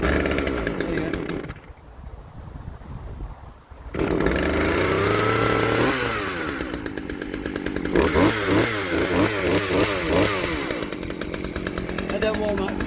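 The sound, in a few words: repaired chainsaw engine running and warming up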